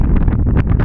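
Strong wind buffeting the microphone outdoors while pike fishing in harsh, hot conditions, a loud continuous low rumble and roar with no other sounds standing out.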